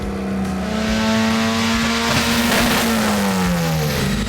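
A Honda Civic hatchback rally car engine holds a loud, sustained high rev on the dyno. The steady droning tone bends slightly and then drops toward the end, with no one talking.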